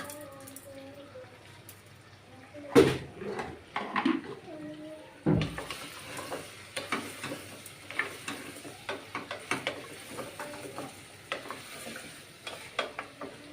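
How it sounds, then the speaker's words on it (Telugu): Pieces of goat trotter are stirred in a pan with ginger-garlic paste and coarse salt, giving repeated scraping and clacking strokes over a faint sizzle, fairly close. A voice speaks briefly near the start. "రెండు నిమిషాలు ఇట్లా తిప్పుకుందామండి"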